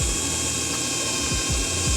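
A drill bores a pilot hole in tough stainless steel on a drag WRX, a loud continuous high-pitched whine close up with a few low sweeping thumps underneath.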